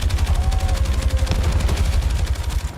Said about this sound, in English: they're the masters of the machine gun